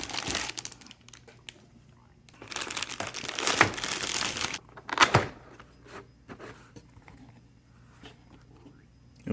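Plastic wrap and packing paper crinkle and rustle in bursts while a Ducky One 3 SF 65% keyboard is unboxed, with louder crumpling around the middle and quieter handling between.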